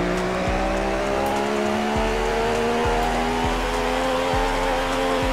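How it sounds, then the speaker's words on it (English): A McLaren Speedtail engine in the Roblox Pacifico 2 racing game drones at a high, steady pitch, its tone rising and then dropping back through a repeating series of gear shifts, loud and alone. "Oh, it's the McLaren Speedtail. This is gonna be quick"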